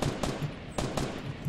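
Gunfire in the Fortnite battle royale video game, a few sharp close shots in quick bursts with short gaps between them, loud and standing alone with no talk over them.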